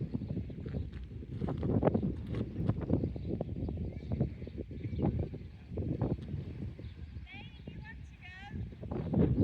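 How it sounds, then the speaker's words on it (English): Steady wind buffeting the microphone with a low rumbling roar, continuous throughout, while people talk over it. "It's very windy."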